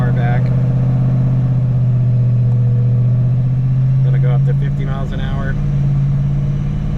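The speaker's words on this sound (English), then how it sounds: "Let me add some throttle to that." A car engine held under throttle on a Dynocom dynamometer drones loudly with a strong steady low tone, rising slightly in pitch midway, while a voice talks briefly over it.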